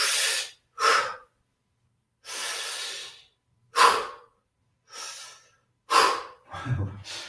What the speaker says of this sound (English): focus that breathing in